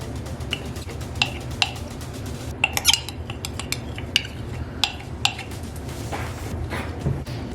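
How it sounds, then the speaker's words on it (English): Spatula stirring orange calendula soap batter in a small jar, with a run of light ticks and clinks against the glass at an irregular pace over a low steady background hum, close up and without speech. "And I'm going to keep giving that a blend."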